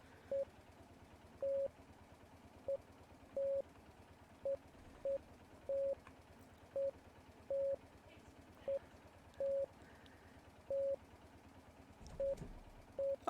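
A long run of Morse code tones keyed in a video game, short dots and longer dashes in an irregular but steady pattern, clear single-pitch beeps over faint background noise.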